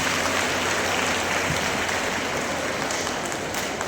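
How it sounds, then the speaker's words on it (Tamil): Dense, steady applause from a large audience at a Tamil community festival, the APEC Thiruvizha 2025, a continuous wash of clapping that holds at an even level throughout, with no voices standing out. "இதுக்கு ஒரு பெரிய கைத்தட்டல் கொடுக்கலாம்."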